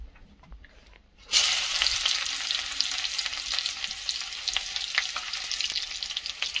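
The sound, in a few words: bidani mushroom curry frying in hot oil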